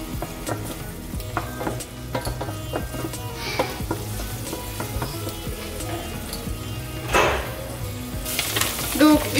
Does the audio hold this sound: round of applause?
no